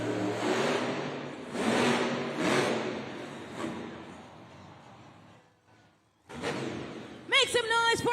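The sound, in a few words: Monster Jam monster truck engine revving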